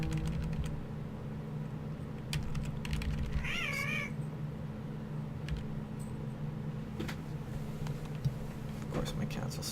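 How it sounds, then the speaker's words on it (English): A house cat gives one wavering, whiny meow partway through, close by, against a steady background hum with scattered keyboard typing clicks and faint noises. "my cats will start whining"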